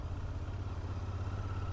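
Royal Enfield Interceptor 650 twin-cylinder motorcycle engine running steadily while riding, a low throbbing hum with a faint higher whine, continuous and fairly quiet throughout, no talk.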